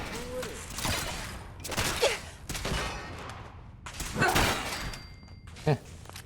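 Gunfire in the video game Fallout 4 comes as several loud shots and bursts spread through the clip, with a sharp crack near the end, under and between talking.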